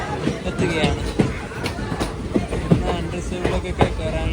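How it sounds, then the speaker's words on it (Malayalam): A 7:40 train pulls into a crowded Ottapalam railway station on a busy Monday, with a steady rolling rumble and irregular metallic clatter under constant crowd chatter and nearby voices. "7:40 ട്രെയിൻ ഇപ്പോൾ ഒറ്റപ്പാലം റെയിൽവേ സ്റ്റേഷനിലേക്ക് എത്തുകയാണ്"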